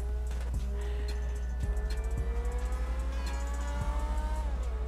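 A stock-engine car cruises steadily in GTA 5, a continuous low engine drone with faint whining harmonics and occasional thumps, no voices present.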